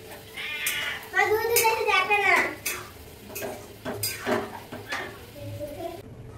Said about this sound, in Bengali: পুষি এসছে, এখন পুষি এখন মাও মাও করছে